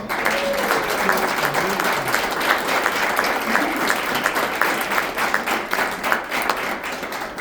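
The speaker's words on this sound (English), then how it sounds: "I think that deserves a big round of applause" A crowd at a board meeting applauds steadily throughout, dense clapping with a few voices mixed in, sustained without pause.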